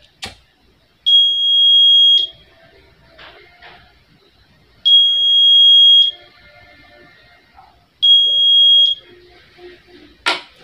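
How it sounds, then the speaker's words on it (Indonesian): Buzzer on a school robotics flame-sensor project sounds three times, each a steady high electronic tone lasting about one to two seconds, separated by quiet gaps, loud and close with faint handling noise. "saat didekatkan, buzzer akan mengeluarkan suara"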